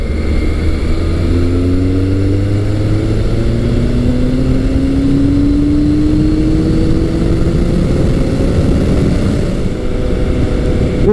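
A Yamaha FJ1200 motorcycle being ridden, its engine droning loudly and steadily throughout, with the pitch rising gradually through the gears and wind rush mixed in, no voices.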